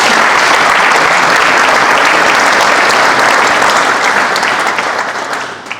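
Dense, loud applause from a hall audience at a ceremonial fire brigade association anniversary gathering in a cultural centre, sustained steadily for several seconds before tapering off at the end.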